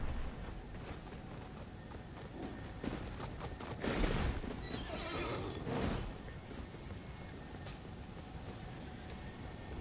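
A horse in the Elden Ring video game whinnies and clops over a busy game soundscape, with louder bursts around the middle and no speech.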